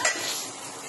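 Spices for a taro root curry frying in a pan, a brief close scrape of stirring over a bright hiss of sizzling oil.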